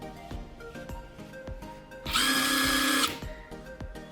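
Impact wrench revving at its highest speed setting, a steady high-pitched whine lasting about a second, set between sharp clicks and taps of handling at close range.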